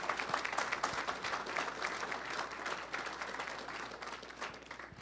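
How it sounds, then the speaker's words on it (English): An audience breaks into steady, sustained applause in a hall, a dense wash of clapping at moderate distance throughout with no talking over it. "Please give them a round of applause."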